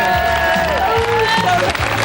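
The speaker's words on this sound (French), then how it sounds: "on les applaudit très fort" Loud audience applause for a family of contestants on a late-1990s French TV game show, a dense steady roar of clapping with music playing underneath throughout.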